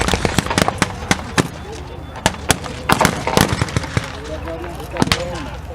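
Rounds going off at a WWII battle reenactment in Yorkshire, a rapid irregular string of sharp blank-fire cracks and pops, some in quick bursts, ringing out over an open field with faint crowd murmur beneath.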